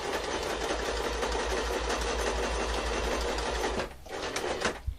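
Sewing machine stitching a dart, a fast steady mechanical whirr with rapid needle pulses running loud and continuous for about four seconds, then slowing and stopping with a few clicks.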